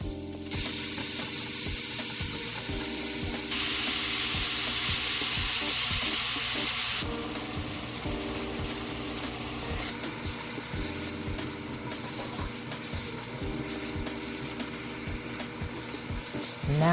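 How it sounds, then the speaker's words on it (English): Ground chuck sizzles and fries steadily in vegetable oil in a pot, a dense continuous crackle with occasional stirring, loud and close throughout with no talk. "Now we're gonna cook this ground chuck until there's no more pink"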